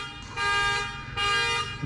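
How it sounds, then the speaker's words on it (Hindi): A car alarm blares near a resort on Bhurban Road in Murree, its bright, steady electronic tone sounding in two long pulses that rise and hold at close range. "इधर सामने अलार्म लगाया हुआ है और बंद ही नहीं हो रहा"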